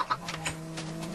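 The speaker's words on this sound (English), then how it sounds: "And a little baby chick." Baby chick in Minecraft (Xbox 360 Edition) giving a few soft, short clucks over a steady low game hum, near and faint.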